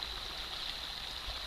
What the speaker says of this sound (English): So this is the east branch of the Pleasant River.